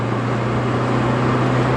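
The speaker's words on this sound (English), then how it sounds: "Oh, completely stock exhaust on this, and it does sound great." A Peugeot 205 GTi engine breathes through its stock exhaust, a steady, loud, even drone heard from inside the car while driving.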